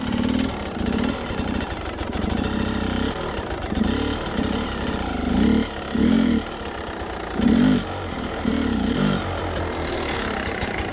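Dirt bike engine at low revs during enduro balance practice, a close, continuous putter with repeated short throttle blips and surges about once a second as the clutch is worked, with no talking.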